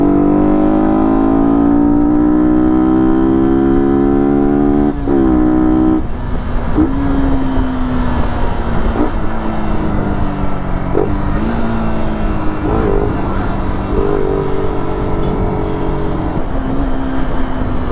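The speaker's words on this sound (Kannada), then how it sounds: "ಬಟ್ ಸೌಂಡ್ ಮಾತ್ರ ಸಕ್ಕದಾಗಿ ಬರ್ತಿದೆ ಈ ಗಾಡಿದು" A vehicle engine drones loudly throughout a Sunday morning ride through Bangalore, with a rising and falling pitch as the machine revs and shifts, dense steady road noise underneath and no talking.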